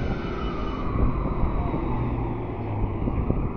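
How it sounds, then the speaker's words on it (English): Gusty outdoor wind buffets the microphone with a steady low roar that swells and eases, loud and unbroken, with no talk heard. "it's fairly windy"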